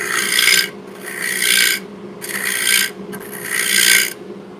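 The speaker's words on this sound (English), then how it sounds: "Right now I'm just touching this with this scraper" A scraper rasps across wood in four steady strokes, each about a second long with short pauses between, close and fairly loud.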